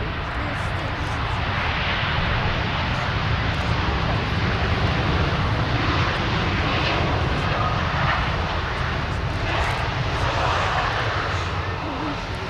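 A Qatar Airways airliner arriving from Doha lands at Manchester Airport, its engines a loud, steady roar that holds unbroken throughout.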